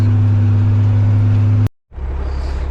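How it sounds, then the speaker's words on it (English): A tractor engine runs loud and close with a steady droning hum while ripping up a field, cuts out abruptly for a moment, then comes back with a rougher, rising rumble. "you can hear how much the tractor idled up just pulling that thing up out of the ground"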